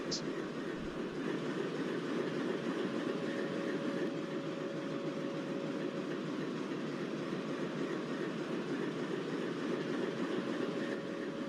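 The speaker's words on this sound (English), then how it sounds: "Shivamogga town KSR Bengaluru passenger train which is crossing Tunga River on the bridge" A diesel-hauled Shivamogga Town–KSR Bengaluru passenger train crosses the Tunga River bridge in Karnataka, giving a steady, continuous rolling rumble with a low engine drone throughout; no one speaks.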